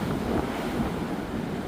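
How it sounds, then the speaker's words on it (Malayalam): Strong, heavy sea waves surging against rocks on a rough, rainy coast during rock fishing, a close, continuous roar of churning surf with wind buffeting the microphone. "നല്ല സ്ട്രോങ് വേവ് വരുമ്പോഴത്തേക്കും അടിച്ച് കയറുന്നുണ്ട്"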